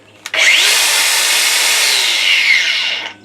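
An angle grinder with an automatic brake whines loudly and steadily for about three seconds, then cuts off abruptly as the brake stops the disc.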